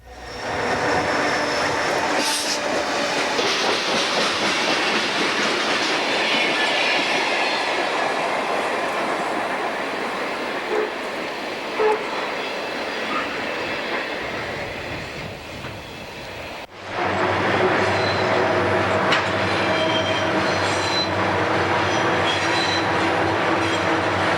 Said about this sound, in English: A loaded Chessie coal train heads north through the signal bridge at Greg's